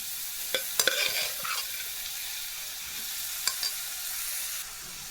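Cooked pulses for a rural-style kaalu palya are stirred with masala and tempering in a clay pot. Close, repeated scraping strokes come with a few sharp clicks of the spoon against the pot, and no one speaks.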